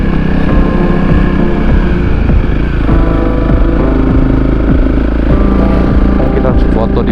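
Honda CRF 250L motorcycle climbing a steep rocky macadam hill, its engine droning loud and steady throughout with revs rising and falling as it labors up, voices talking over it.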